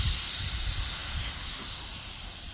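A strong hiss of air escaping a bike tire tube as the valve stem comes out, loudest at the start and fading slightly over a couple of seconds, with low rumbly handling noise beneath.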